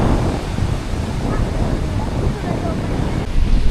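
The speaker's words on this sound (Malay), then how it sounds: "Kau tengok tak ombak dia?" Ocean waves wash onto the beach at Port Dickson in a steady, loud broadband rush, with wind buffeting the microphone and people talking faintly underneath.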